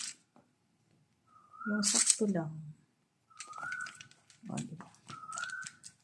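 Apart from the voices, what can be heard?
bird calling noisily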